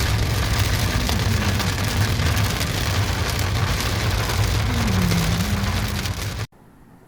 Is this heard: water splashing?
no